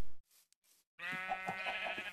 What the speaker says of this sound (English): I'm confused by sheep with hats.